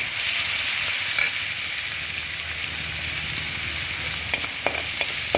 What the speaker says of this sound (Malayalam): ഇതിലേക്ക് ഞാനൊരു പതിനഞ്ച് അല്ലി വെളുത്തുള്ളി ചതച്ചതാണ് അത് ഇട്ട് കൊടുക്കാം